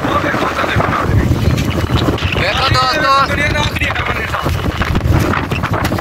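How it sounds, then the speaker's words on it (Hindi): Strong stormy wind blows outdoors, a steady rushing roar buffeting the microphone throughout while someone talks over it. "चंगी तेज हवा आ रही है, चंगी ढेरी है, पूरा तूफान दा मौसम है।"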